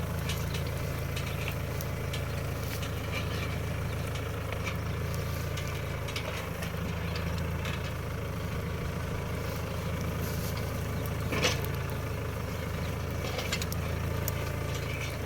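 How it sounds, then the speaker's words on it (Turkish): A tractor ploughs a stony garden field, its engine rumbling steadily at a low, even pitch throughout. The sound is moderately distant, with faint scraping and clatter over the drone. "yukarı kadar traktörle bu şekilde sürmeye devam edeceğiz"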